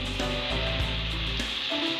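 Cooking oil sizzles in a pan as a country chicken curry is prepared, making a short, continuous hiss over a steady low tone.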